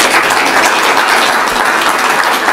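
An audience at a Congo–Switzerland business day event applauds, a dense, loud and continuous patter of many hands clapping together, steady from start to finish with no speech on top.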